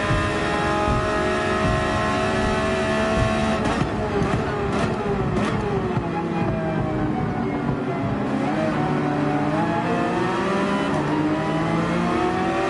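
A Porsche 911 engine in Gran Turismo 7 at Brands Hatch revs loudly and continuously, rising and falling through gears during a race, with a brief exclamation from a player over it.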